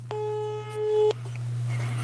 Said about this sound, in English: It's a ringing.